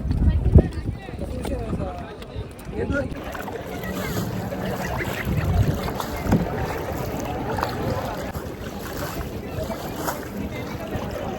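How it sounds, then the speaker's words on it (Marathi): A kayak is hand-paddled on the water at a coastal resort, with soft splashes and water sloshing under a rough rush of wind noise, close to the microphone. "तर ह्याच्यामध्ये बसून आता इथे सेल्फ कायाकिंग करावी लागणार आहे, म्हणजे हातानेच ते चालवायचं."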